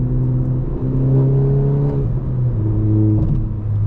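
A tuned VW Golf 7 1.4 TSI with an IHI hybrid turbo, Stage 3 at 225 hp, on coilovers and light wheels, accelerates hard through a corner. The engine drones loud and steady, rising in pitch, dipping briefly at a shift, then climbing again.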